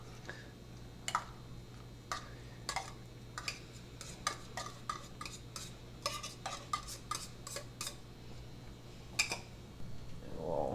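Albacore tuna being stirred into a tuna casserole mixture in a bowl, giving a series of soft, irregular scraping clicks of a utensil against the dish over a steady low kitchen hum.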